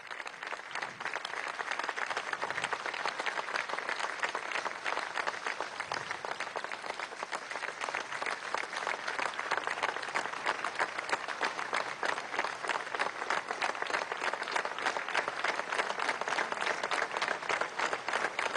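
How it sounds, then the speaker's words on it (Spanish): A crowd at a rally marking fourteen years since Venezuela's April 2002 coup applauds victims and heroes in sustained, even clapping that carries on for the whole stretch, heard from some distance and fairly soft. "demos un aplauso entre todos y todas"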